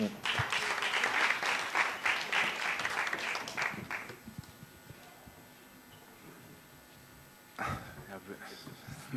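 Audience applause at a press conference, a dense burst of clapping lasting about four seconds before fading, followed by people talking, with a brief noisy clatter later.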